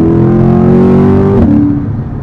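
Chevrolet C8 Corvette Convertible, 2021, accelerating hard under manual control, its loud engine note climbing steadily before a rapid upshift drops the pitch and the revs build again.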